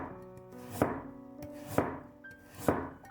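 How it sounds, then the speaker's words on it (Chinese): A knife slices half a carrot into thin pieces on a cutting board, three sharp, evenly spaced chops ringing through a quiet kitchen with no talk. "半根胡萝卜先切成薄片"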